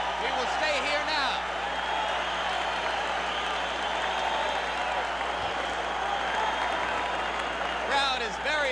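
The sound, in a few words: excited boxing crowd cheering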